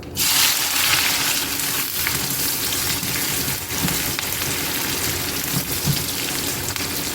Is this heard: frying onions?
yes